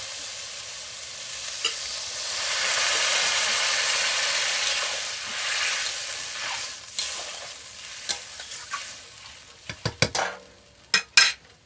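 Water is poured into a pan of potatoes frying in spices, a swelling hiss and sizzle that builds and then fades, followed by several sharp clanks of a utensil against the pan near the end.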